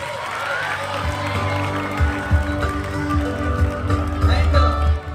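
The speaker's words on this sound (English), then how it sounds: "Please give them a huge round of applause." An audience at a school Founders Day celebration claps and cheers in a dense, steady wash of applause, with voices mixed in throughout.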